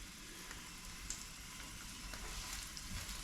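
Courgettes pan frying, a soft, steady sizzle with faint crackles and pops, quiet and close with no talking.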